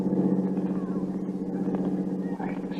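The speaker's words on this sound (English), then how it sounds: "There's a truck coming down the road." An approaching truck rendered as a radio drama sound effect, its low engine rumble steady and moderately loud across the moment, with voices faintly present underneath.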